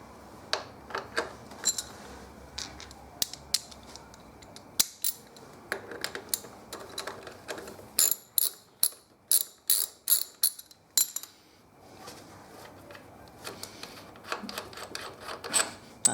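A ratchet loosens the front fork bolts on a Honda GL1200 Aspencade motorcycle, giving close, crisp clicking in several bursts of quick strokes with short pauses between them, with no talk.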